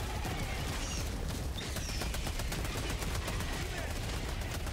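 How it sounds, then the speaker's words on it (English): Helldivers 2 orbital barrage shells pound the ground in a dense, rolling series of explosions and rapid gunfire bursts, steady and moderately loud throughout. "Orbital barrage incoming."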